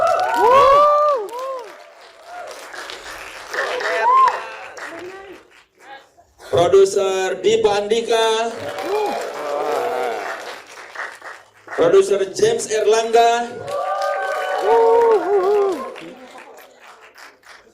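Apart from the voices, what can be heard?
audience applause for the film's producers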